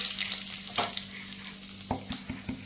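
Masala with mustard seeds, turmeric, ginger-garlic paste and coriander fries in a pan for stuffed brinjal, a close, steady sizzle broken by several sharp scraping stirs of a spoon, with no talking.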